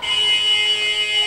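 A basketball game buzzer sounds at half-time during a women's international tournament, a loud, steady electronic drone held for the whole moment, with no talking over it.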